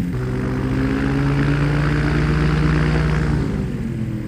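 A small propeller airplane with a steerable nose wheel taxis on a breezy day, its engine droning loud and close with a steady buzzing tone that shifts slightly in pitch.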